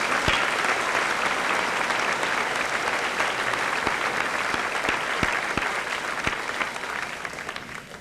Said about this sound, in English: Let's give them another round of applause as they go back to their seats.